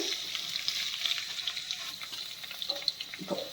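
Onions or vegetables frying in a pan for pesarattu with radish chutney, a steady close crackling sizzle with occasional stirring scrapes, no talking.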